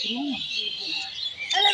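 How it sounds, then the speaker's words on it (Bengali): Chirps from a myna sheltering inside the mouth of a Jatayu statue at a Ram temple, bright rapid calls filling the clip at moderate distance, with a louder burst near the end. "জটায়ুর মুখের মধ্যে একটা শালিক পাখি রয়েছে"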